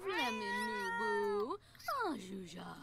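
A cat in the video game The Sims meows twice, loud and close: a long, steady drawn-out meow, a short pause, then a second meow that slides down in pitch.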